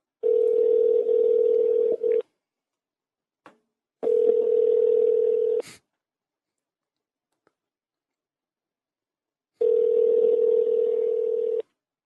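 Telephone ringback tone during a prank call, three long steady buzzing rings separated by silent gaps, clear and close, with a few faint clicks between them.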